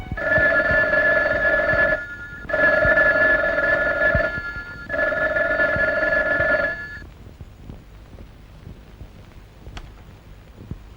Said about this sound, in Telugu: ఫోన్ మోగుతుంది రెస్పాన్స్ లేదు